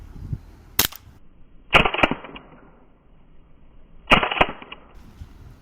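An R31 CO2 air gun fires three sharp, loud cracks spaced a second or two apart, the later two followed by a brief hissing gas release.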